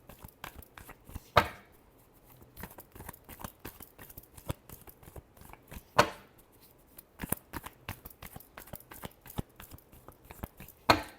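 Tarot cards are shuffled by hand at close range in a quiet room, with soft papery clicks and flutters and a few sharper slaps spaced irregularly.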